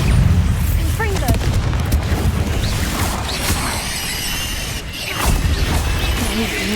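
Confringo blasting-spell explosions in the Hogwarts Legacy video game, a dense run of booming, crashing blasts with sharp bursts near 1 and 5 seconds over a loud, continuous rumble of battle noise, with talking partly audible.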